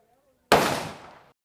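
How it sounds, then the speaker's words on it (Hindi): One sharp gunshot cracks at a shooting range and rings out for nearly a second before dying away, heard alone after a moment of quiet. "बस ट्रिगर दबाया और गोली चली"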